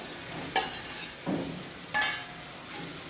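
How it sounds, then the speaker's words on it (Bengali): Pieces of fried spiny gourd tumbled into a pan of poppy seed paste and stirred, a spatula scraping and clinking against the metal in a few separate strokes over a soft sizzle, close by. "কাঁকরোল ভাজাটাও দিয়ে দিচ্ছি"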